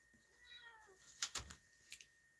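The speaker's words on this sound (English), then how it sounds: "My cat's just making some noise." A house cat meows indoors in a few faint, short calls, with one rising call early on and louder bursts near the middle and end, and no talking.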